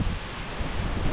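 Strong typhoon wind roars steadily across a campsite in Nueva Vizcaya, a dense, unbroken rush that buffets the microphone up close.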